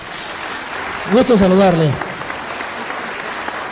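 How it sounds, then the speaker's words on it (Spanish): Applause from a church audience, a steady bed of clapping that runs throughout while someone speaks briefly over it near the middle. "¡Oh, démosle un aplauso!"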